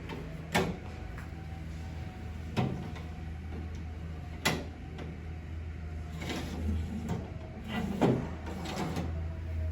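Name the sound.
wine shelf slide wheel sliding into cooler channel and popping in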